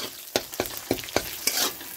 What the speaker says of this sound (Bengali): তো আমি এখানে ডিমটা ভেজে নিব লবণ দিয়ে।